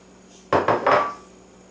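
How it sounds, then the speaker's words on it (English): A whisk or utensil clattering against a bowl while flour and egg batter for Yorkshire pudding is beaten, three quick close knocking strokes that fade out. "then we'll beat that up into our batter"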